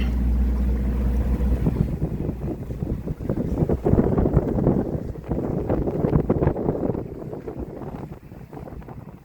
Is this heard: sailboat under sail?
yes